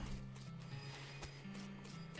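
A video game horse in West of Loathing whinnies and its hooves clop over a steady synthetic background hum, with no talking.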